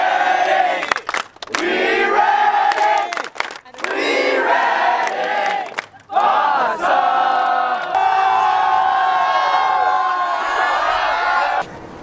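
A student crowd at a Filipino American student association's friendship games shouts a loud rhythmic chant in unison, with repeated bursts and brief pauses between lines.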